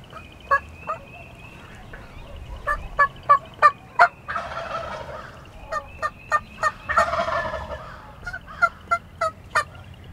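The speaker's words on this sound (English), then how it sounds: "this old gobbler read the script, and he's coming in on the string" A wild turkey gobbler calls in the woods with repeated gobbles and sharp clucks over a faint background hiss, fairly close and rising in bursts, with no talking.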